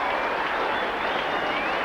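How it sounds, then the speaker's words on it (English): Steady, dense applause from a football crowd at Unley Oval fills the air as a continuous broad wash of clapping, with a faint commentator's voice underneath. "And the applause is for Peter Motley."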